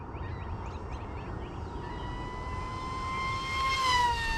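A Su-35 style 3D RC airplane with LED lights flies past outdoors, its high electric whine rising in pitch and growing louder as it sweeps in close near the end.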